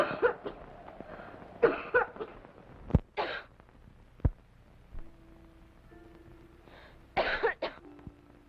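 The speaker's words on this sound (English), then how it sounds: "It's only the cough." A girl in a period drama coughs in several separate bursts, some harsh and some muffled, spread across quiet gaps in a hushed room, with no talking.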